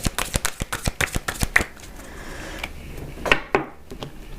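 Tarot cards are shuffled by hand in a quick run of crisp, close riffling clicks, followed by a few separate soft snaps and taps as cards are drawn and laid down, no talking.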